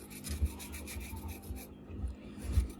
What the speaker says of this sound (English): This is dry thermal paste. I make sure I scrape it carefully.